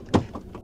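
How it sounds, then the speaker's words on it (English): A van door opens at night with a single sharp clunk of the latch, followed by a brief sliding rumble and faint movement, close by and with no talking. "I'm opening the door."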